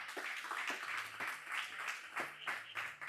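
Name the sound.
congregation clapping hands in church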